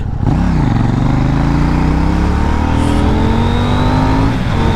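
A KTM 790 Duke motorcycle, set to track mode, revs loudly and close by. Its engine note climbs steadily across the clip, then drops off near the end.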